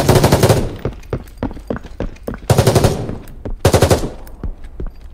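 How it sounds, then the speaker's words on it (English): Bursts of rapid automatic video game gunfire, three loud volleys of machine-gun shots separated by sparse single shots and echoing tails, with no talking. "The next topic is gunshot sounds."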